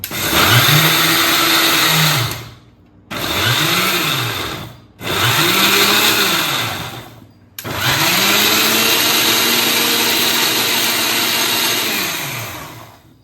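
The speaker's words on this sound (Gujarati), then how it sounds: "એટલું એડ કરવાનું જ છે આપણે, પણ જગ્યા ઓછી પડે છે એટલે આપણે પહેલા પીસી લઈએ" A kitchen blender grinds boiled potatoes with rock salt in loud, steady whirring runs with a rising and falling motor pitch, stopping briefly three times before a longer final run.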